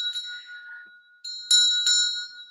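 A handheld bell sounds indoors, one sustained ring fading out, then after a pause two sharp, louder strikes ring on brightly without any talking.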